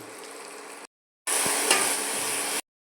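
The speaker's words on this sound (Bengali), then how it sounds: "পেঁয়াজ লঙ্কা টমেটো কুচি আদা রসুন কুচি সব দিয়ে ভেজে নিচ্ছি" Chopped onion, chilli, tomato, ginger and garlic fry in a pan, two short bursts of loud close sizzling separated by a brief silence, the second bright and intense with a single knock of a spoon.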